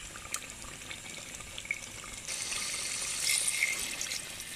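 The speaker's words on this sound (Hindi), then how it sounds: "अब इसमें मैं 3 से 4 गिलास पानी शामिल करूंगी" Several glasses of water poured into a pot of mutton kunna after the ghee has separated from the meat, a moderate splashing pour that grows fuller toward the end, with no talk.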